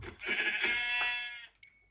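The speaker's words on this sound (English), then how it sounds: "Another sheep. I could do with another one." A single drawn-out Minecraft sheep bleat, clear and close, lasting over a second before trailing off.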